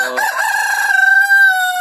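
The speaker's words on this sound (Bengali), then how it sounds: "আমরা কিছু মুরগি কালেকশন করছিলাম, টাইগার মুরগি" A Tiger breed rooster crows once, loud and close, a long drawn-out cry that holds steady and trails off.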